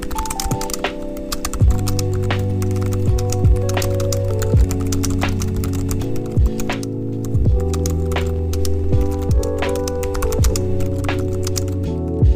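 Typing on a Satechi X2 Slim keyboard, with quick, irregular key clicks and occasional heavier thunks over steady background music.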